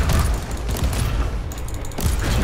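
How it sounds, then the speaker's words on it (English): Frag burst explosion in Warhammer 40,000: Inquisitor, a dense rumbling volley of blasts and crackling impacts layered over continuous combat noise, loud and sustained throughout. "Nice, the explosion there was insane"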